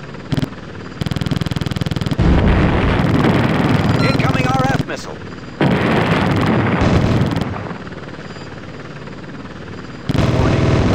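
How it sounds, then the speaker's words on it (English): Enemy ground fire pelts an attack helicopter in the 1994 Apache flight game, rapid bursts of gunfire crackling over a loud, steady rotor and engine drone, with synthetic cockpit warning voices breaking in. "Enemy ground fire."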